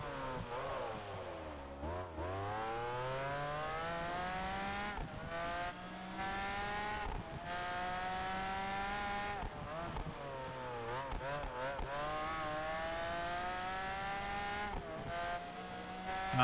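McLaren race car in Project Gotham Racing 4, its engine howling steadily through repeated gear shifts, pitch climbing and dropping as it accelerates along straights, loud and close.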